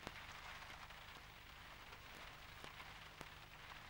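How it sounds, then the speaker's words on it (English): Steady rain pattering on a surface as a continuous soft hiss, with scattered louder drops tapping throughout. "It's raining."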